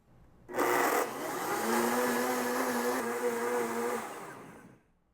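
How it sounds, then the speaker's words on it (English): Blender whirring through a hot purple ube ice cream mixture, starting abruptly with a loud burst, then a steady motor hum with a clear pitched whine, cutting off after about four seconds. "I just knew I needed to throw it in the blender to break down some of the puree into finer bits"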